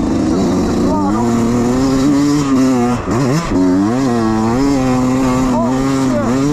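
A KTM Duke motorcycle climbs an uphill race track under held throttle, its engine wailing loud and close in rising and falling pitch sweeps through gear changes. A brief lift cuts in partway through, and a rider's voice sounds over it.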